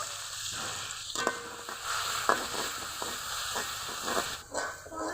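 Steady sizzling and crackling of chilli powder and spices frying with a little water in a hot pan, with occasional scraping clinks of a spoon, close and continuous.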